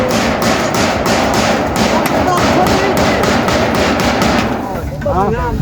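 Someone hammers while putting up a sign for a merit-making forest robe ceremony, a loud run of evenly spaced thumping blows that stops near the end, with people talking in between.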